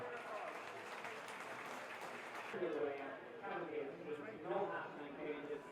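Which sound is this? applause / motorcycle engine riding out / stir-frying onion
applause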